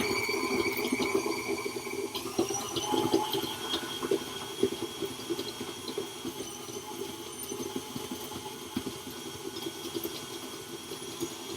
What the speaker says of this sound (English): for the next couple minutes, you're going to hear some noise because obviously the mixer has to do the blending